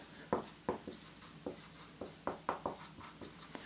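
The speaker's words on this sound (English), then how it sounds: "So let's write that down." Marker or chalk strokes scratch across a lecture board, a quick irregular run of short taps and squeaks, close and clear with no talking.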